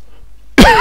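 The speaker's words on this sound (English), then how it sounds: "That's a cough." A single sharp human cough bursts out after a stretch of near silence, loud and close, with a rasping throaty onset.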